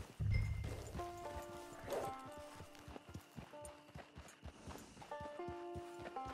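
Horse hooves clip-clop in steady, evenly spaced beats as a rider walks a mount up to a camp in the video game Red Dead Redemption 2, with a low rumble at the start and faint music underneath.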